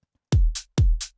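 Two rounds of a deep kick each followed by a short, bright hi-hat hit from a drum sample, dry and close with nothing else playing.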